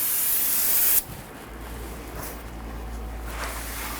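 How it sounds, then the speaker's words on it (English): Brake solvent sprays onto a new Ford Explorer front brake rotor in a loud close hiss for about a second. It cuts off sharply and quiet handling noise follows. "Simply take a brake solvent, spray this down."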